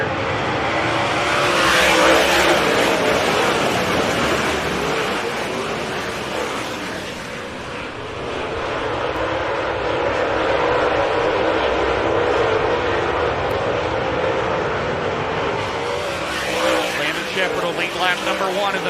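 Dirt late model race cars roar around Brownstown Speedway during a 50-lap feature, a loud sustained engine drone that swells and fades as the pack passes, with a race announcer talking over it throughout.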